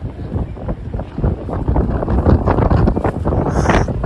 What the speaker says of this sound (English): Man, that wind is horrible.